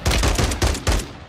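In the video game Warzone, a quick burst of automatic gunfire rattles out, four or five loud, close shots in rapid succession.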